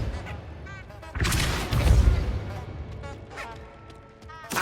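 A Repulsor spell cast in Hogwarts Legacy, a sudden broad magical blast that swells and rumbles for about a second, with scattered game effects and voice chatter around it.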